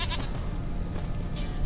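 Goat bleats in The Witcher 3 Wild Hunt (Next Gen): a short wavering animal cry at the start and another near the end, over a steady low ambient bed, no talking.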